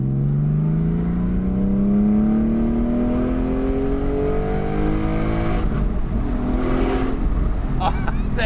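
A Porsche Spyder with a 4.5L engine revs up in one long, loud rising pull with its sound echoing off a nearby wall, ending in a few sharp crackles.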